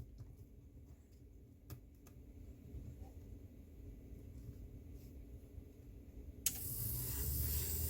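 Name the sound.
HO Athearn SW1500 model locomotive motor running on DC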